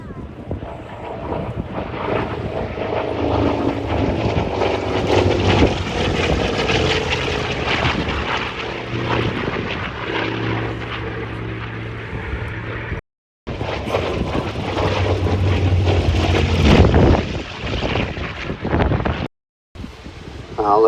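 A Fury piston-engine propeller fighter built in 1953 for the Iraqi Air Force departs at an air show, its loud, throaty drone rising and then fading over about twenty seconds, with wind buffeting the microphone and two brief cuts.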